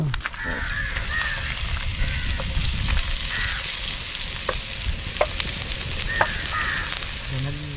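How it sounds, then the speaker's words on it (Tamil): Steady oil sizzle and crackle of ginger and garlic frying in a pan, continuous and close, with a few sharper spatters and faint background voices. "இதை போட்டு இஞ்சி பூண்டு போட்டு தாளிக்கணும்"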